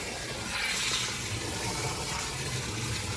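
Hydroponic nutrient water sloshes and swirls as a container is pulled up through it and stirred, producing a steady close-up watery rush with no voices.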